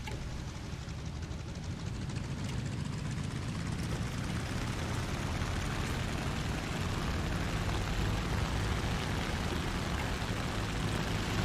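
A Sea Fury propeller fighter in War Thunder drones with a steady, loud piston-engine roar that holds throughout, with no one speaking.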